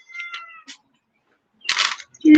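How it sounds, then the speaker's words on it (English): A house cat gives two short, close meows, then after a pause a breathier, harsher cry. Someone speaks very briefly at the end. "Kitties."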